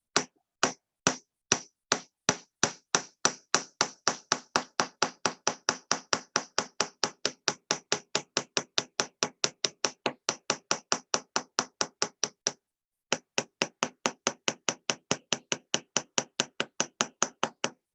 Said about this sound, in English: I'm just going to hammer it all the way around until I get the texturing that I want all around.